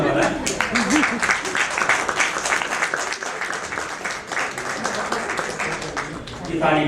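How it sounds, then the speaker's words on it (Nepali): An audience claps at a literary magazine's 23rd anniversary celebration: sustained, dense applause from many hands with a few voices mixed in, filling the hall steadily before tapering slightly. "यो तालीको लागि फेरि पनि धन्यवाद।"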